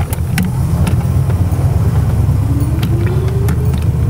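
Engine of a 1969 Chrysler Newport while driving, a steady low rumble close up and continuous, with a faint rising whine and a few light clicks over it, no talk.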